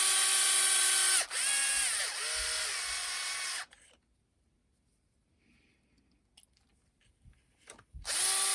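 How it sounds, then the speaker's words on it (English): A power drill screws parts into an Arrma Big Rock Crewcab RC truck, whining loudly in two close bursts that shift pitch mid-run, then a quiet stretch of small handling clicks before the drill starts again. "I usually don't make you guys watch me drilling in parts"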